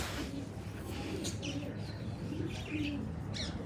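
Pigeons coo softly in a steady, low murmuring stream with a few faint chirps over continuous background noise, kept at home where they are fed jaggery and set out in the sun.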